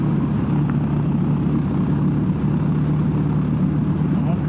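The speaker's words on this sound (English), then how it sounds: "So we're taxiing for departure." Motor glider engine and propeller running while the aircraft taxis for departure, a loud, continuous droning hum with a steady low tone, heard from inside the cockpit.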